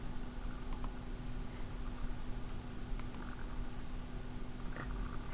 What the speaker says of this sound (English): I'm clicking through my videos